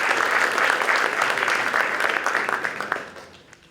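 Crowd applause at a tourism startup pitching event, loud sustained clapping from many people that thins out and fades near the end, with no voices.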